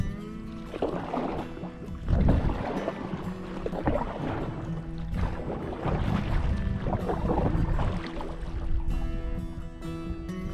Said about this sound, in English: Maybe I can pass it. I can't paddle upstream.